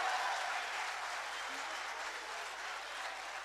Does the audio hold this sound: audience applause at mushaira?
yes